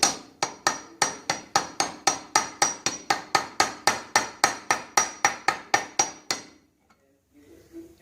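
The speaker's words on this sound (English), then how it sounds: "Using a big 3/4 drive socket. Just tap it carefully." A hammer taps a big 3/4-inch drive socket while fitting a new camshaft on a 1966 Ford F100 shop truck: about twenty crisp, evenly spaced metallic strikes, close and loud, then a short quiet tail.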